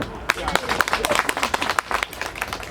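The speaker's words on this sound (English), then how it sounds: "let's clap hands for them" A crowd at a Rustenburg political rally claps hands in a dense, lively patter of applause that keeps going, with voices mixed in underneath.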